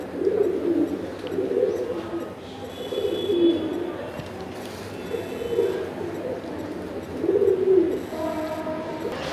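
Soft, low pigeon coos repeat in overlapping bursts, close by in a pigeon loft, with faint rustling and a few higher tones in the background.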